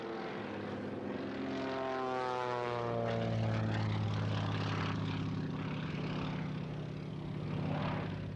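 A biplane engine drones through flight at an airshow, a steady propeller roar with a slowly shifting pitch that swells and eases over several seconds, with no voices.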